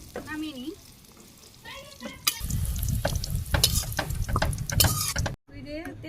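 Bitter gourd frying in oil in a village kitchen, a loud dense sizzle with stirring scrapes after a short stretch of a voice talking, and talk resuming at the very end.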